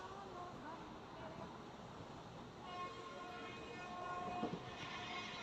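Interior of a moving passenger train on the Berhampur to Nabadwip route: a quiet, steady rumble and rattle of the carriage, faint voices underneath, and a brief horn-like tone near the end.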